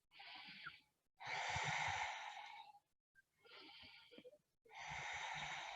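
Slow, deep yoga breaths, two long inhale-and-exhale cycles with airy nasal rushes separated by brief pauses, close and clear without talk.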